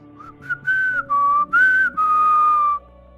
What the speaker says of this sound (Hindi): एकदम सीटी बजाते हुए चल जाता है